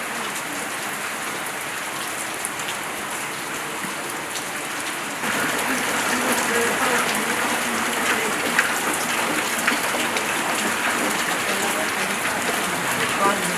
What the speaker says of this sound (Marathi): पाऊस काय थांबायचं नाव घेईना.